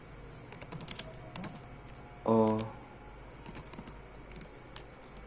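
Bursts of quick clicking keystrokes on a computer keyboard while entering router configuration commands, close and crisp, separated by quiet gaps, with a short hum in the middle.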